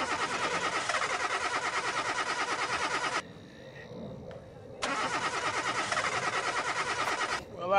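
A car engine cranks repeatedly with a fast, rhythmic starter whir, stops briefly, then cranks again in a second long attempt, loud and close, with no catch into a running idle.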